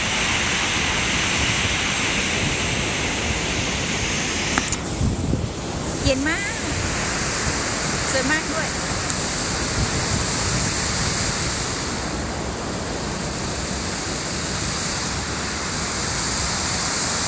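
A waterfall in Verdal, Norway, roars as a dense, constant rush of falling water with wind buffeting the microphone on a cold, rainy day, while someone speaks briefly over it.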